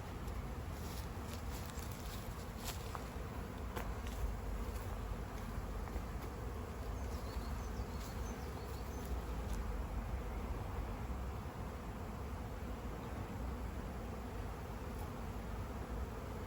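A honeybee swarm buzzes steadily around a hive entrance while a beekeeper captures it and re-smokes the spot, a dense, continuous drone of many bees close by with no talk.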